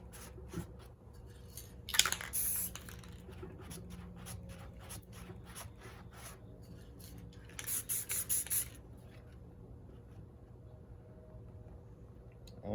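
Dark blue spray paint hissing onto a 16x20 inch canvas in two distinct loud bursts, near and close, amid softer rubbing and scraping sounds over a low steady hum.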